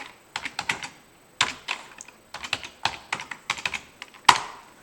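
Bursts of fast typing on a computer keyboard during bank-account data entry in accounting software, heard close and clear in quick clattering runs separated by short pauses, ending with one sharper key strike.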